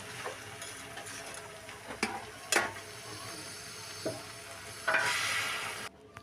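Jackfruit curry with small shrimp bubbles in a pot while a spoon stirs it, a quiet simmering hiss broken by a few sharp scrapes and clacks, ending with a brief louder steamy burst.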